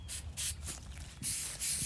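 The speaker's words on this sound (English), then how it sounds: "go ahead and spray it" Pruning sealer sprayed from an aerosol can onto a freshly cut crepe myrtle branch, several short, close hissing bursts with brief gaps between them.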